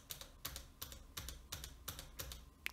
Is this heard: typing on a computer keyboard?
yes